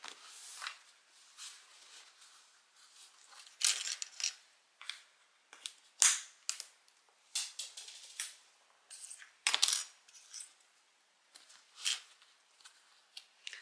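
Plastic sewing clips are snapped one by one onto tote bag fabric, giving a close, irregular run of sharp little clicks and taps with quiet pauses between them and no talking.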